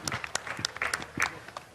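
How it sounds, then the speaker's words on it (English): Round of applause from an audience at a pro-boxing event in Pakistan, a brief burst of scattered, fairly close hand claps with some uneven rhythm. "I want to have a round of applause for Lawrence Newton."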